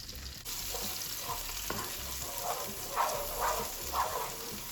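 Onion and garlic with a little liquid cook in a pan, a steady soft sizzle with occasional stirring scrapes and small bursts, fairly quiet and close, with no talking.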